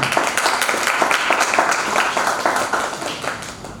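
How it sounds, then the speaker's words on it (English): Sustained audience applause at a university technology and society event, dense steady clapping from many hands with a faint voice underneath. "give them a big clap again"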